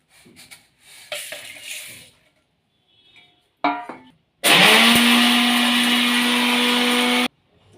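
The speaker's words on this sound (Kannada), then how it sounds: "ಈಗ ಡ್ರೈ ರೋಸ್ಟ್ ಮಾಡ್ಕೊಂಡಿರೋದೆಲ್ಲ ಮಿಕ್ಸಿ ಜಾರ್ಗೆ ಹಾಕ್ಕೊಂಡು" A mixer grinder grinds dry roasted spices into powder in a jar, first with short handling clatters and brief bursts, then a loud sustained whirring motor that spins up and runs steadily for about three seconds before stopping abruptly.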